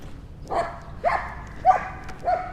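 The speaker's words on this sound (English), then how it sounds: "Dogs are playing kind of rough over there." Four short barks spaced about half a second apart come from dogs playing rough on a New York City walk, moderately near and clear over low street background.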